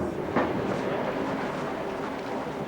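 A passenger train runs on its rails, a steady, close rumble with a rattling, clattering texture that holds at an even level throughout, with no speech.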